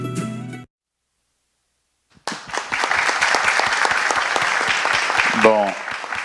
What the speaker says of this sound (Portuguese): E aí eu quero que esses aplausos sejam para a equipe de comunicação do Laís e da CEDIS